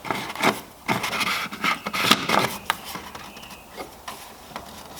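The lid of a ProVent oil catch can on a Nissan Navara D40 with the YD25 engine being screwed back on: close, continuous rubbing and gritty scraping with small clicks, loud and uneven over about five seconds.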